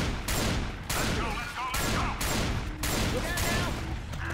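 Bursts of rapid gunfire from a zombie-shooter game, Left 4 Dead 2, repeat in four loud volleys separated by brief gaps, with game effects and some voice activity mixed underneath.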